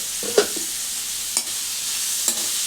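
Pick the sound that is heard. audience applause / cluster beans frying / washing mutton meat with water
cluster beans frying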